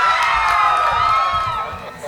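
A crowd at the Sturgis motorcycle rally cheers and whoops to welcome a local musician, a dense, steady roar of voices with shouts rising and falling throughout before easing slightly at the end.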